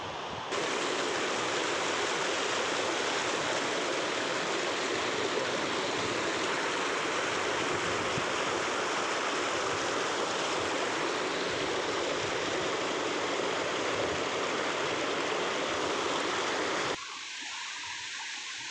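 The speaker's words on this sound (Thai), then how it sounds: "น้ำตกสาดน้ำตกสาด" A waterfall roars steadily, a dense constant rush of water that stops abruptly near the end.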